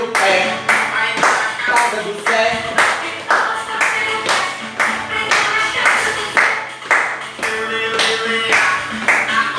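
Rhythmic hand clapping and foot stamping repeat in a steady beat, close and loud, with a voice briefly speaking over it.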